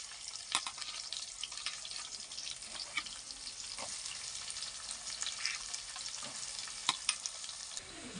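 Chopped onions fry in hot oil with cumin, a steady soft sizzle with faint crackles and occasional sharper pops, fairly quiet and heard alone.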